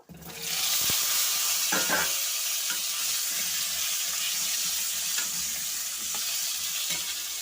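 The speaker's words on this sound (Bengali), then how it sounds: "তেলটা কিন্তু গরম হয়ে গেছে, এবারে আমি আলুগুলোও ভেজে নেব।" Potatoes hit hot mustard oil seasoned with nigella seeds, bursting into a loud, steady hiss and crackle that continues throughout with occasional stirring clinks.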